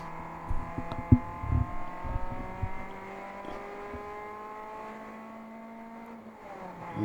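A ChampCar endurance racer at Gingerman Raceway holding a steady engine drone that climbs in pitch, with a brief dip and rise near the end as it upshifts into fourth, heard from a distance without talking.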